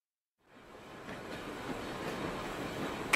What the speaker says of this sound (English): They take the train.